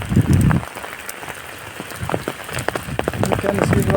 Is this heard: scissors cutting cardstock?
no